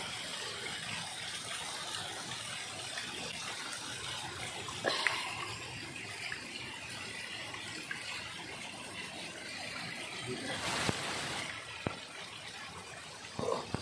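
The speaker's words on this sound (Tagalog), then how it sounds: "andyan na yung ilog sa baba" River water runs near a jungle waterfall in Lagonoy, Camarines, a continuous gushing wash with a few louder splashing surges and no talking.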